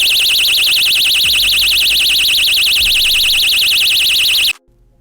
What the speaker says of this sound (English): The white button found on the front of the alarm above the logo activates the alarm.